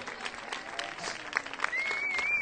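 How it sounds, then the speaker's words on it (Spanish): Brief applause from a live audience at a staged performance in Cartagena, a few seconds of scattered clapping with a thin whistle cutting through as it builds. "Un fuerte aplauso."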